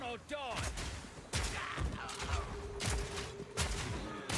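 Grenade projectiles from a crossbow mercenary burst in Path of Exile 2 in several sharp volleys of rapid blasts, separated by short gaps, with a game voice heard briefly at the start.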